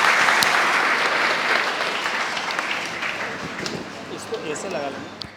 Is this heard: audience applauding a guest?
yes